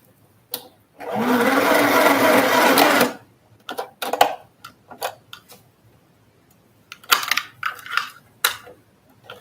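A sewing machine runs in one sustained burst of a couple of seconds while back-stitching fabric, followed by scattered clicks and knocks from handling the machine and lifting the presser foot.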